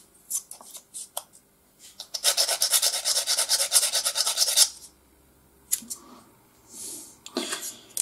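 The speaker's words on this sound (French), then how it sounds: "je viens de terminer le ponçage d'un des garde-boue" Sanding a photo-etched metal mudguard on a scale model, a dense steady scraping rasp lasting a couple of seconds, preceded and followed by short quiet rubbing strokes and light handling noises, close up with no talking.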